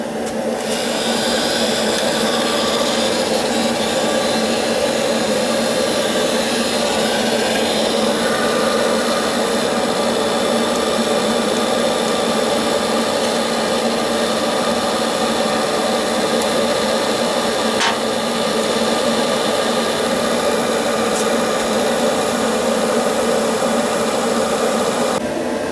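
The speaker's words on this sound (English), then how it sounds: "I'm going to try a heat gun first." A heat gun softens old epoxy on a 1969 Camaro manual steering box, giving a loud, steady blowing whir with a constant motor hum that runs unbroken for the whole stretch, no speech.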